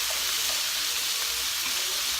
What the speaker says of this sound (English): So I'm going to let this cook down for a few minutes.